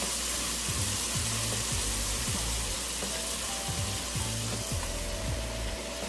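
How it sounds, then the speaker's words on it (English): Mushrooms added to a pan for oxtail stew sizzle steadily and loudly, with a regular pattern of low knocks from stirring running underneath, close up and with no talk. "And I'm going to add those mushrooms."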